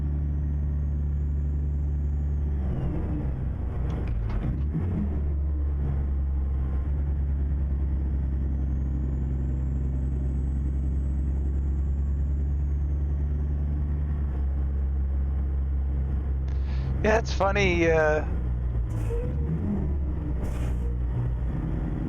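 Truck engine in American Truck Simulator, a steady low drone running throughout on a murky drive, with someone speaking briefly over it.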